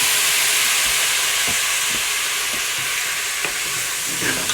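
Porter or stout boils and sizzles in a stew pot with beef and vegetables, a continuous close hiss with a few soft scrapes of stirring.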